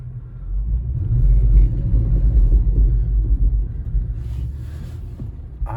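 An Infiniti FX50 with bald tires pushing through a snowstorm in all-wheel drive, its engine a steady low rumble heard from inside the car, loud and continuous before easing off toward the end.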